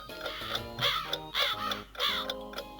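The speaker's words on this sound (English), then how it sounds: "I can hear some early birds starting to sing." Early morning birds call nearby at dawn, giving about four loud, harsh, caw-like cries in quick succession.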